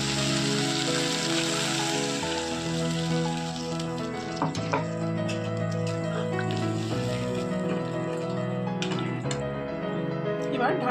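Water poured into a pan of frying fish sets off a busy crackling sizzle with scattered pops, steady and close, under a person talking over background music.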